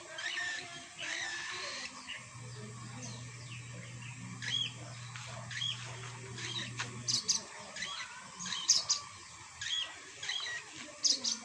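A pet bird chirps with short, high, scattered calls at close range, while a person talks nearby and other small sounds and a brief steady hum run underneath.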